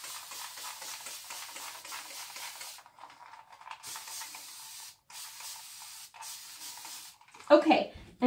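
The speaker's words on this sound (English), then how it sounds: "So I'm going to deplop and I'm going to spray down my hair." Short bursts of fine mist hiss from a spray bottle as water is sprayed onto hair, several separate sprays in a row from close by, followed by a brief handling rustle.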